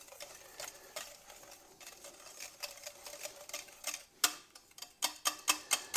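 Butter being whisked into butterscotch pie filling, quick rhythmic tapping and scraping of a whisk against a bowl, light and fairly faint, speeding into sharper evenly spaced strokes toward the end.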